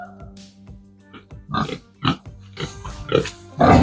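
Sows on a village pig farm grunt and oink in short bursts, close by, with a steady low hum in the background and no clear speech.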